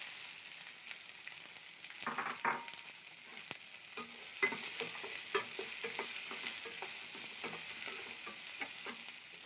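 Onion sizzling in a pan of hot oil for beetroot dosa masala: a steady, soft frying hiss with intermittent scraping and stirring clatter from a spoon, fairly quiet and close, with no talking.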